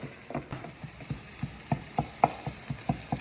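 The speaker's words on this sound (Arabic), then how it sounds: "لما بنحط البصله مع الزيت ونكون عم نعمل القليه" Onions frying in oil while being stirred, a quiet sizzle broken by a quick, regular series of soft scraping strokes, close and unaccompanied by talk.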